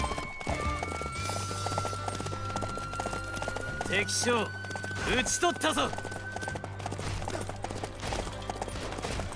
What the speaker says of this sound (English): This horse is too damn slow.